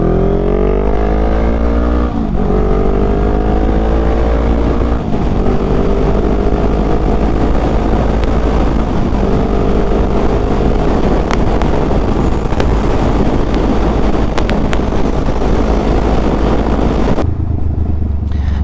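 A Honda Rebel 500 motorcycle with an aftermarket exhaust pulls hard through several gears, its loud engine note rising in pitch, dropping at each shift and climbing again, with wind roar under it before a sudden cutoff near the end.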